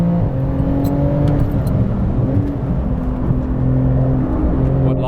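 A 700 HP Porsche 911 GT2 RS MR lapping the Nordschleife, heard from inside as a loud, sustained engine drone with shifting revs and tyre and road roar, and no voices.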